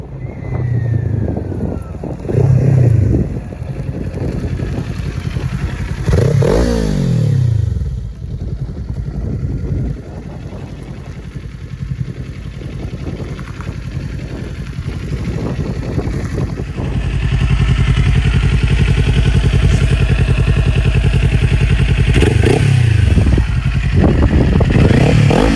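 A 2022 Kawasaki Ninja 400 fitted with an Akrapovic slip-on exhaust idles loudly nearby and is revved in several sharp climbing bursts, with the engine settling back to a steady, raspy idle between throttle blips.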